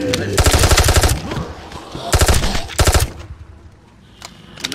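Video game automatic gunfire comes in three loud sustained bursts of rapid shots, close and harsh, then trails off into quieter background noise.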